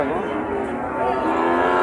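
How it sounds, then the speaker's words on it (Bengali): Cattle lowing at a busy cattle market: a steady, drawn-out moo sits over a dense bed of crowd murmur and ambient noise throughout. "বেশ কয়েকটা গরু দেখাবো।"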